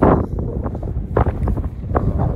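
Wind buffets a microphone in low rumbling gusts at Štrbské pleso, a mountain lake, swelling and easing in bursts, loud and close.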